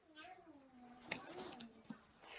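A child imitates a cat, giving soft drawn-out meows that slide up and down in pitch, faint and close, with a couple of small clicks in between.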